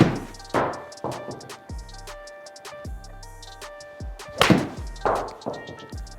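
A Titleist Pro V1 golf ball is struck with a 7 iron, heard as several sharp, close clicks and thunks at irregular intervals, each decaying quickly into a quiet background.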